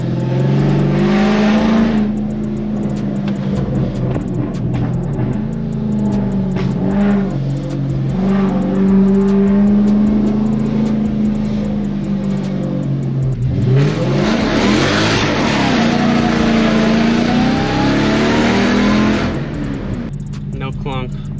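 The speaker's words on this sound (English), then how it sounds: "The backfires." A 2006 Cadillac engine revving hard with popping backfires, loud and close, the revs surging and dropping in bursts while people talk and react over it.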